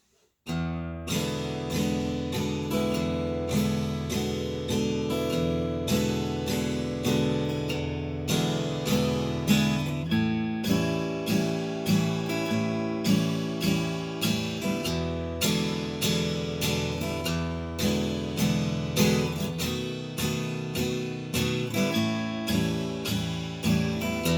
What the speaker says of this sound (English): This is called the 12-bar blues.